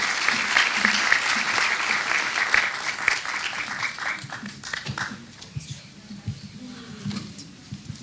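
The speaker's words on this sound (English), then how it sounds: "I want you to give a big round of applause for our first writer this evening, Ty." Theater audience applauding at a live storytelling evening in a studio theater, dense clapping that is loud at first, then thins out and fades into scattered claps.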